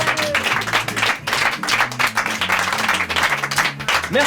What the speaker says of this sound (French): Je vous demande également de réserver un tonnerre d'applaudissements à Perrine à la régie